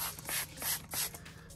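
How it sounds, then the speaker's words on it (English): Quick bursts of cleaner sprayed onto white Tesla leather seats, several short hissing spritzes in an irregular rhythm, close and fairly quiet, with no talking. "And you just spray the seats real quick."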